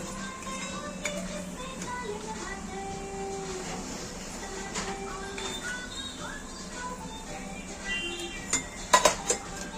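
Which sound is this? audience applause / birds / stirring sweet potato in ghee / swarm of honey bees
stirring sweet potato in ghee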